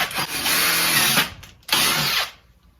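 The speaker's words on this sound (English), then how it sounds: "let's go ahead and drill those holes" Power drill boring holes into a plastic bucket, two loud sustained bursts of whirring with a short pause between them, close up, no talking.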